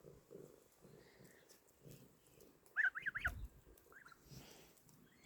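Farmyard geese honk in a short run of several nasal calls mid-way, fairly near, over a faint background of other soft animal sounds.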